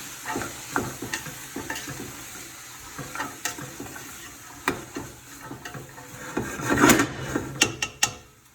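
A spoon stirs diced ham and potatoes in a pot for homemade split pea soup, with repeated scraping and clinking strokes over a light steady sizzle and a louder burst of activity near the end.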